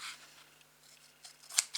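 Soft crisp snips of scissors cutting, faint at first and growing sharper near the end, with quiet rustling between.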